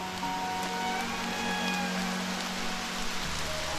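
Steady rain patters on surfaces nearby in Susquehannock State Forest, Pennsylvania, a continuous hiss with scattered drops and a faint tonal hum underneath.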